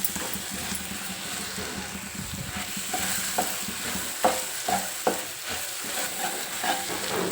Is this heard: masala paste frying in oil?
yes